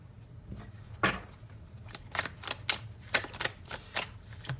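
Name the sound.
handling and taking tarot cards from a deck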